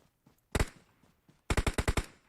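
Gunfire in the PUBG Mobile video game: a single loud shot, then a rapid burst of about six close shots fired in quick succession.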